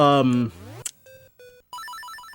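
A telephone rings in the video game Spider-Man 2: Enter: Electro as two electronic beeps, followed by a warbling, pulsing ring tone. A voice is briefly heard at the start.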